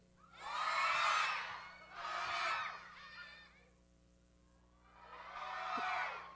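Children at a vacation Bible school shout together as loudly as they can in three bursts: a long roar, a shorter one, a pause, then a final swell, all heard from a distance.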